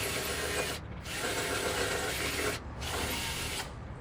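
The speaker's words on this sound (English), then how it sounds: "I'm gonna have to drill these out and make them a little bigger" A drill bores out pop rivet holes in a carbon fiber fender for a 2014-16 Kawasaki Z1000, giving three quiet, gritty whirring bursts separated by short pauses, heard alone.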